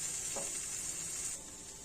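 Masala and onions frying in oil in a pan, a close steady sizzle with one soft stirring scrape early on, fading slightly near the end, no talking.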